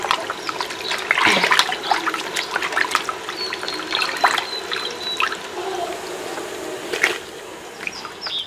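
Vegetables being washed in water in a village kitchen: close splashing, trickling and dripping with scattered knocks and rubbing, steady throughout with a brief louder splash near the end.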